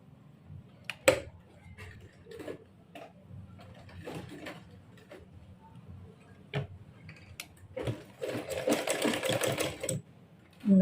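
A sewing machine stitching a corset blouse runs in short bursts, with rapid ticking stitches separated by pauses and a longer, louder run near the end, close by and with no one speaking.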